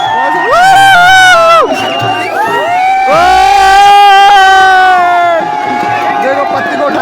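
A dense crowd at the Nanda Devi Ashtami folk fair in Jaspurkhal, Uttarakhand, roars and cheers loudly and continuously, with shrill sustained tonal shouts or whistles rising above the babble.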